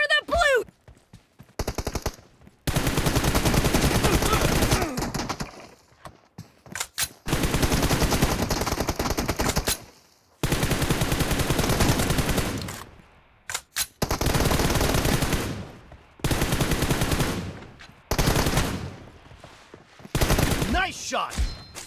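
Gunfire from a mobile shooter game on a Realme X7 Max, heard as long, dense bursts of automatic fire broken by short pauses, loud and close, with brief game voice lines in between.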